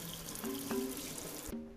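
Cold water runs steadily from a tap over a stained white stain-resistant shirt, a continuous close splashing hiss that cuts off near the end.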